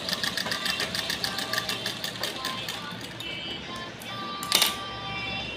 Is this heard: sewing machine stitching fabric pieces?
yes